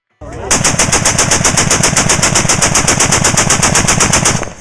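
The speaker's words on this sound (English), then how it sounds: "Number 4, the Browning M2." A Browning M2 heavy machine gun fires one long, sustained burst of rapid, evenly spaced shots, loud and close, beginning after a brief silence and running right to the end.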